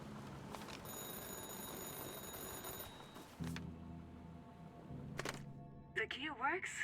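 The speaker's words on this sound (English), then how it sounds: "keeps ringing from the opposite side that I think it should." A telephone rings in a video game, a steady electronic ring lasting a couple of seconds, followed by clunks and a short warbling chirp, all over a low background rumble.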